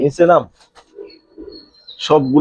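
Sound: pigeons cooing at a pigeon farm

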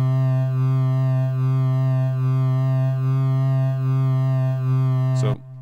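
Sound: synth tone with slight LFO pitch wobble

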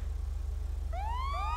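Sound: police car siren in a video game roleplay

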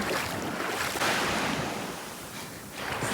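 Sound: Indian Ocean waves on Mauritius shore

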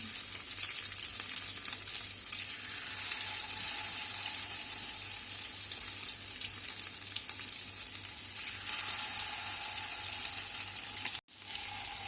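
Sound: chicken patties frying in a pan

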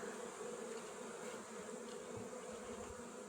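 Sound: honeybees flying around a reed hive

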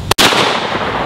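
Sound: Mossberg 930 SPX shotgun firing

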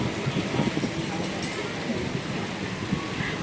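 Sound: rain falling at a market

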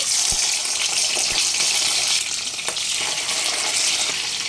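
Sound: pomfret fish frying in hot oil

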